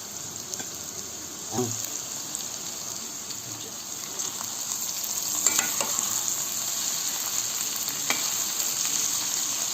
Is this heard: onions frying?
yes